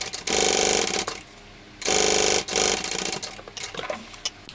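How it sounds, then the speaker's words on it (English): Sewing machine stitching the short end of a tote bag in bursts: two loud steady runs of whirring stitches separated by pauses, then shorter uneven stitching toward the end. "We're going to go ahead and sew this other short end."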